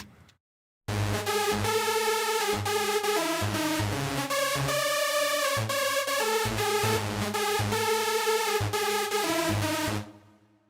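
Hardstyle lead synth group played solo and dry with no send effects: a loud, sustained, harmonically dense lead with stacked chords and a pumping bass line underneath, running steadily for about nine seconds before cutting off.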